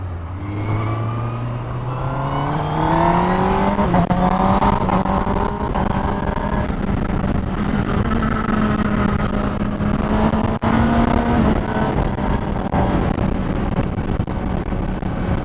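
A 2018 Honda CBR1000RR SP Fireblade is ridden hard, its engine rising through the revs then holding a loud, steady high drone with rushing wind for the whole stretch, heard from on board.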